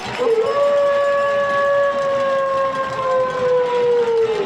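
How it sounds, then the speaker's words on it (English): Stadium horn blares with steady sustained tones as the Longview Lobos football team takes the field, likely followed by a howling sound effect; loud and continuous for the whole stretch at a high school game. "You hear the horn, you hear the howl, you know the Lobos are on the field."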